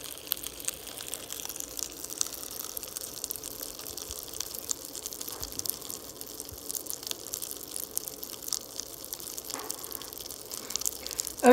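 Pop Rocks candy fizzing in a glass of water, a steady soft crackle of tiny pops and bubbling close up, with scattered louder snaps and no talk.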